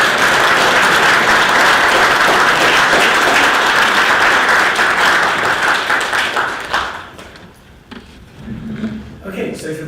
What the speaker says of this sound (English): If we could all give a round of applause to our